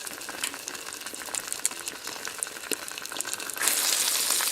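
Bacon, egg and cheese for a breakfast sandwich sizzle in an oiled pan, a constant crackling fry with scattered pops and spits that swells louder near the end.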